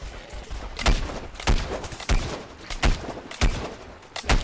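Bomb blasts in the shooter game Plants vs. Zombies Garden Warfare: a run of about seven sharp, booming impacts at uneven intervals, fairly loud and close, with no one talking.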